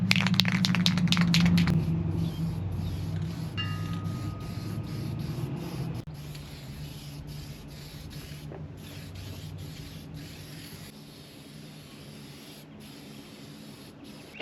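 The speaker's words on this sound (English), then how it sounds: "How do I know when I have enough spray paint on there?" A tire wheel is spray painted white from an aerosol can, with a loud hissing burst at the start, then a quieter continuous spray hiss and faint rattles and scrapes, close up with no talk.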